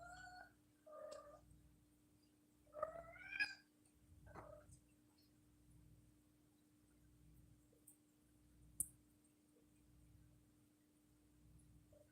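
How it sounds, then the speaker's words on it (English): A cat meows in the background, a few short drawn-out cries early on, then quiet with a steady low hum throughout. "Don't mind the absolute crazy cat behind me."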